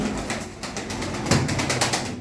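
Soft cooing from loft pigeons, including a blue-speckled male and grey-speckled female, rolls on continuously at close range with a faint flutter of wings partway through.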